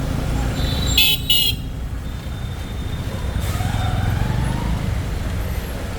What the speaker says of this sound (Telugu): ఇక ట్రాఫిక్ చూడు రెస్ట్ ఉంటుంది మనిషి కూడా రోడ్డు దాటలేడు